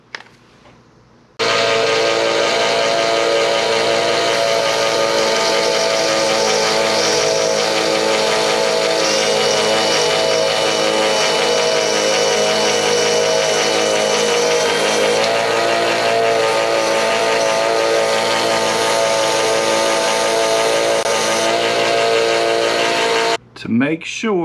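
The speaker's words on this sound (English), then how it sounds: "let's go over to the belt sander" A belt sander grinds down screws, running loud and steady for over twenty seconds close by before cutting off abruptly near the end.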